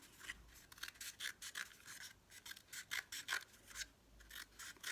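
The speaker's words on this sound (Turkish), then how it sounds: "döndürerek hızlı bir şekilde kesiyorum." Scissors cut through a cardboard paper roll while it is turned, producing a fast, irregular series of crisp rasping snips, close and soft, with no talk.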